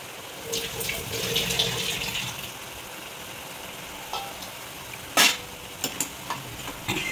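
A spoon stirs cooked masoor dal in a pot with coriander powder, garam masala and fresh coriander, giving a few scraping swishes and sharp clinks over a low sizzle.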